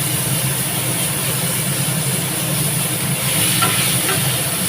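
Bitter gourd frying in light oil, a steady, dense sizzle that holds at an even, loud level throughout with no pauses.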